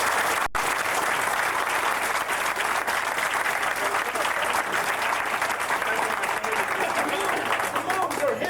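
Sustained applause from an audience at a martial arts seminar, a dense, even wash of clapping that holds steady for several seconds, with voices mixed in underneath.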